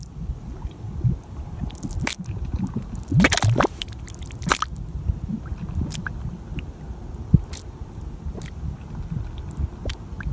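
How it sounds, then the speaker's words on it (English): Thick mud bubbling and shifting in a mud volcano, with wet squelching pops and plops at irregular intervals, close and fairly loud, with no voices. "This is a mud volcano, always bubbling and shifting with constant movement."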